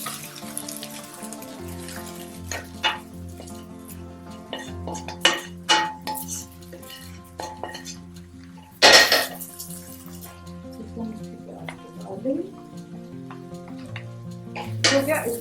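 Fried okra and onion being stirred into cooked minced meat in a pan, with a spatula scraping and clinking against metal amid faint sizzling, close and moderately quiet, one louder clatter midway.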